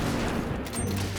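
Rapid gunfire fills a firefight in The Bureau: XCOM Declassified, a dense continuous burst of shots and booms with game sound layered underneath, loud and steady throughout.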